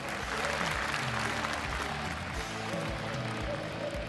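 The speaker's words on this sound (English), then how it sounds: "Give a big hand to Kula." An audience at a Quake Live esports grand final applauds. The clapping is dense and steady from start to finish and sounds like a large crowd heard from within the hall.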